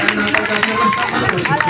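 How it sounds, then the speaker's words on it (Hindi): An audience at a stage program claps loudly and steadily in dense, continuous applause, filling the room for the whole short stretch with crowd noise mixed in. "आप लोग जोरदार ताली से"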